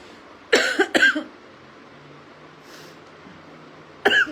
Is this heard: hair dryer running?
no